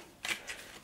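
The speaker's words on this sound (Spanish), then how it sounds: "esto es tan simple como barajar" Playing cards from the Canvas board game being shuffled, two quick riffling bursts close by and fairly quiet, with no talking.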